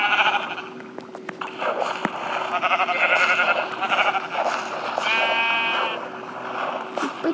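Sheep bleating in the video game Minecraft Pocket Edition, several wavering bleats at moderate loudness, the clearest one near the end, over a steady game background hum.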